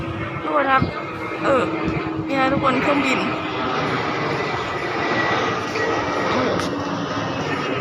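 An airplane flies low and very close overhead, its loud engine roar filling the scene while a person talks over it.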